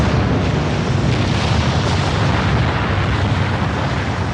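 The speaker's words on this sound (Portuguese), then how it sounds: "Uma explosão colossal." A colossal, sustained explosive roar with deep rumbling and crackling bursts, loud and unbroken throughout, from the violent volcanic eruption of Krakatoa.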